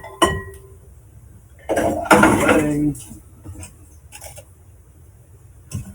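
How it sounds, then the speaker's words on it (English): A bench scraper clatters against a mixing bowl and scrapes out yeasty, sugary cinnamon roll dough mixture, with a sharp clink, then a longer rough scraping burst and a few quieter knocks in a quiet kitchen. "I'm going to use my bench scraper just to get all of this yeasty, sugary goodness out of the bowl"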